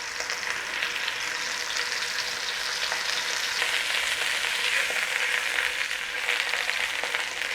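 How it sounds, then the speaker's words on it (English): Meat sears in a hot pan with a steady, bright sizzle that crackles and hisses evenly the whole time, fairly close and with no talking. "We don't have to do any more to it than put a sear on all the way around"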